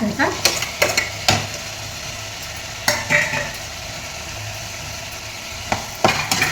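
Chili paste frying in oil, a low steady sizzle broken by several sharp spoon-on-pan scrapes and knocks that come in irregular clusters.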